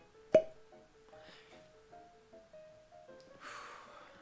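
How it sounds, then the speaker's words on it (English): A cork pops sharply from a bottle of Booker's bourbon, a single loud, close pop with a brief squeak, followed by quiet fiddling with the bottle and a soft pour near the end. "Time for a fresh cork pop."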